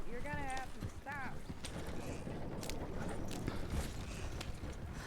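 A horse's hooves clop at a steady pace in the Red Dead Redemption 2 world (RedM roleplay), a continuous rhythmic patter heard fairly faintly beneath a bed of game sound and brief speech.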